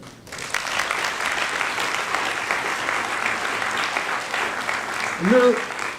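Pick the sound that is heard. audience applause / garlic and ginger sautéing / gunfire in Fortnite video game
audience applause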